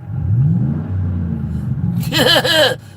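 A car engine revs up hard near the end, a burst of rising mechanical roar after a low rumbling idle, loud and close.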